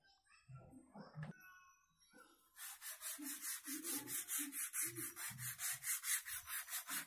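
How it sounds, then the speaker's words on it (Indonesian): Hand sanding of a 7075 aluminium rifle stock for smoothing, a steady rhythmic rasp of back-and-forth strokes, fairly close, with quiet talk in the background. "yang masih di amplas ini untuk penghalusan"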